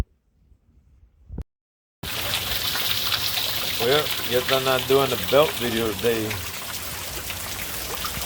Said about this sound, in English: It's raining. Started raining.